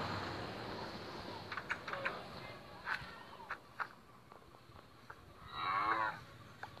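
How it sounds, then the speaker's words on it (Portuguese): A cow moos in the video game Minecraft: one drawn-out, moderately loud moo near the end, after a few soft clicking steps over a quiet ambient background. "Bora, vaca."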